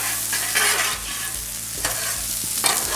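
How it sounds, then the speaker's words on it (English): Bacon and charred corn kernels sizzle on a Blackstone flat-top griddle, a loud close frying hiss with repeated metal spatula scrapes sweeping across the steel surface. "We're gonna bring in the bacon with the corn."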